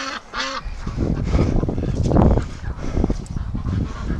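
A flock of hungry breeding ducks quacks and calls for food nearby, a few clear calls opening into a loud, continuous, overlapping clamor with no talk.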